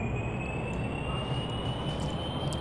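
Aircraft engine held at full throttle on a runway in a flight video game, a steady broadband roar with a thin high whine running unbroken throughout, no voices.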